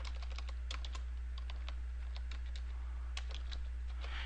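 Typing on a computer keyboard while entering a word into a text box in GIMP, with quick close keystrokes in short uneven clusters over a low steady hum, no voices.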